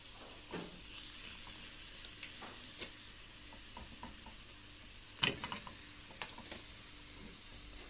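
Breaded chicken panne cutlets fry in hot oil with a soft, steady sizzle, broken by faint clinks and scrapes of a utensil and one sharper knock midway.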